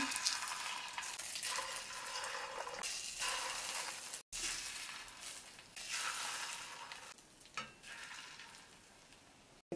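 Korean-style meatballs fry in oil over low heat with a steady crackling sizzle, close and even, broken by brief pauses and a few soft utensil knocks.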